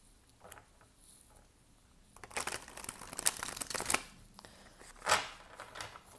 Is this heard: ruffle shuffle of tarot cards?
yes